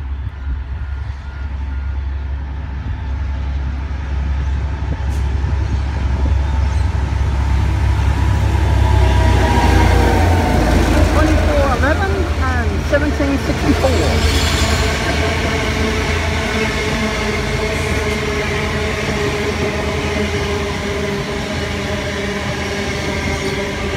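A passenger train rumbles through Lawnton Station close by, its loud wheel roar and clatter swelling to a peak with squealing metal, then easing into a steady rolling drone.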